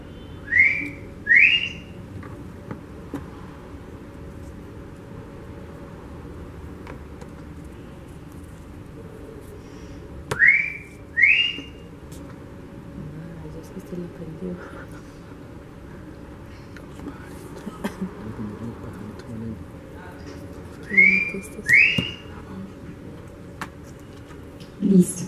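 A person whistles a short two-note phrase imitating a Colombian bird, repeated three times about ten seconds apart over a steady low background hum.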